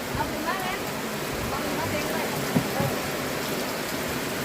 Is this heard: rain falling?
yes